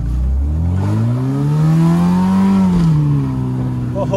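A rusty Honda Civic engine droning loudly and close, its pitch rising and then falling back as the car drives, with a steady rumble underneath.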